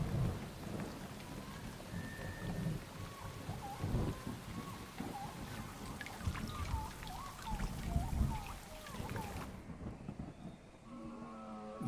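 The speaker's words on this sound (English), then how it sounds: "There are violent storms and torrential rains." Heavy rain pours steadily while thunder rumbles and rolls through, with a deep crack near the end; no voices.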